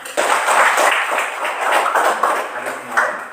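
A classroom of young pupils claps together in a brief, dense burst of applause, close and steady with no talk over it.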